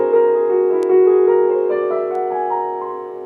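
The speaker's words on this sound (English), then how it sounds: "So that's the sound of the whole tone scale." A whole tone scale played on a keyboard with the sustain pedal held down, notes stepping upward one after another and ringing together into a blurred, sustained wash, alone and fairly loud.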